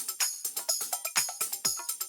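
Layered pop percussion loops with a tambourine, hi-hats and extra percussion hits ticking in a fast, busy, even rhythm, bright and crisp, fairly quiet, with no voices.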